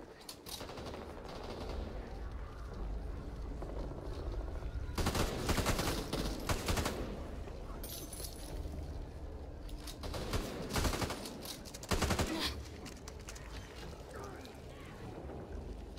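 Bursts of automatic gunfire ring out in the zombie shooter game Back 4 Blood, loud volleys in several separate clusters over a constant background rumble, with little voice present.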